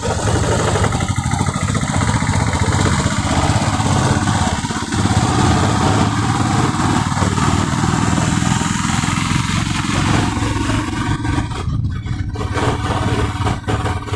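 Royal Enfield Bullet 350X BS6 motorcycle engine running steadily while riding, a continuous loud low thump with wind rush throughout, no talk over it.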